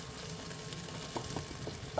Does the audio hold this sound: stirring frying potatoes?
yes